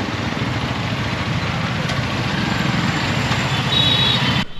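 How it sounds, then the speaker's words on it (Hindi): Hero Karizma XMR 210 motorcycle engine running in third gear during a test ride, a steady, loud, low rumbling drone with wind noise, constant in level and close throughout. "बाइक थर्ड गियर में है और उसके बावजूद भी बहुत आराम से उठ रही है"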